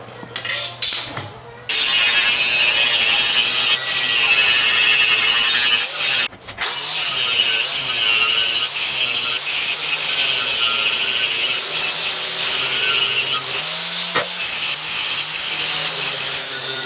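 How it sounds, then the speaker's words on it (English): Metal ends are ground to a bevel for a welding skid build, giving a loud, continuous, harsh grinding and rasping with two short breaks. "So go ahead and start beveling those."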